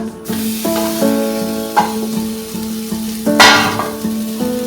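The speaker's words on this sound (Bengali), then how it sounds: "ততক্ষণে আমি নারকেলটা ভেজে নেব" Grated coconut fries in a hot wok with a close, hissing sizzle. Several brief scrapes and knocks from stirring break through it, and nobody speaks.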